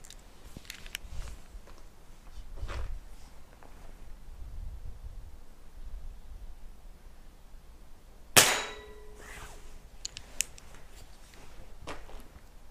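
Air rifle shots strike a metal target outdoors: a sharp report followed by a ringing metallic clang partway through, with faint clicks and handling noises before and after and no speech.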